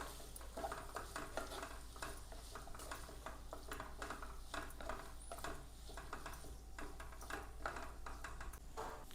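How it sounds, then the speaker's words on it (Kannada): Cooked vegetables and paneer are stirred into white pulao in a pan, with soft rhythmic scraping and light sizzling, quiet and close. "ಬೇಯಿಸಿಟ್ಟ ತರಕಾರಿ ಪನ್ನೀರನ್ನು ಸೇರಿಸ್ತೇನೆ"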